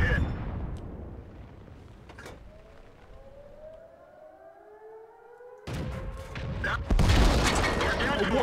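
Tank taking a critical hit in World of Tanks: a rising siren-like whine, then a sudden loud explosive impact and heavy rumbling battle noise, close and dense.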